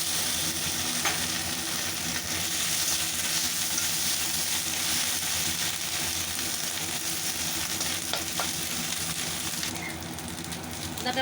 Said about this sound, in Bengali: আদাটা ভাজা হয়ে গেছে